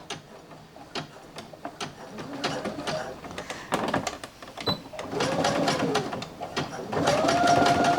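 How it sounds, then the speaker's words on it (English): A sewing machine zigzag-stitches fabric for a reusable bowl cover, with uneven ticking clicks and bursts of motor whir building louder toward the end. "just use a zigzag to stitch it together"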